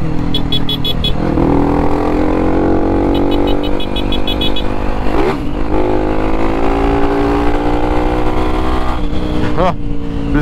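A Honda XRE 300 motorcycle rides at speed along a corridor road, its engine droning loudly and continuously with shifting pitch as it revs and eases, accompanied by wind rush and faint beeping.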